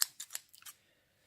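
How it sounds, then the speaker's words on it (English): Paper scissors snip and click in a quick run of four or five crisp, close metallic cuts, then fall silent. "You also need the scissors."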